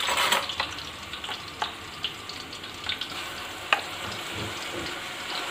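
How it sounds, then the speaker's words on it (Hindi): Ginger garlic paste hits browned onions in a pan for beef nihari, giving a steady close sizzle broken by sharp clicks and scrapes of stirring. "अब इसके अंदर मैं डाल रही हूँ अदरक लहसुन का पेस्ट।"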